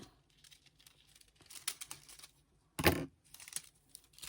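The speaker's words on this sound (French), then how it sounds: "je vais venir découper un petit morceau pour venir recouvrir là le double face" A small piece of paper cut for a handmade greeting card: quiet crinkling and a few soft snips, then one sharper, louder crisp cut near the end, close up with no voices.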